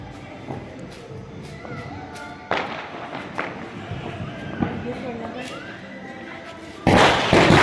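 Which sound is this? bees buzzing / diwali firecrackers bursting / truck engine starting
diwali firecrackers bursting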